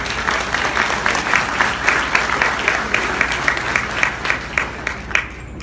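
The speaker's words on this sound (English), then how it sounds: "let's give them a round of applause" An audience applauds a building design team at a presentation, a steady full round of clapping from many hands, fairly close and even in level, tapering slightly at the end.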